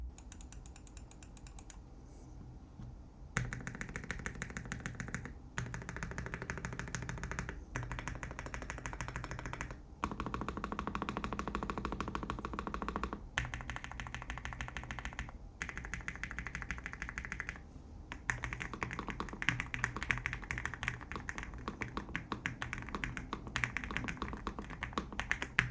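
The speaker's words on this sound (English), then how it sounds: "Here's a typing test." Typing on a MelGeek O2 mechanical keyboard: quiet, soft, poppy keystrokes in continuous close-up bursts, separated by a few brief pauses, with no voices.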